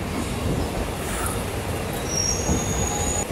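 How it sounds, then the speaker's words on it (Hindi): A Haridwar–Una Himachal MEMU Express with twelve coaches pulls out of platform 9, heard from on board as a loud, continuous rumble with high wheel squeals rising near the end. "9 नंबर प्लेटफॉर्म से बिल्कुल डॉट ऑन टाइम पे डिपार्चर हो गया है हरिद्वार ऊना हिमाचल मेमू एक्सप्रेस का"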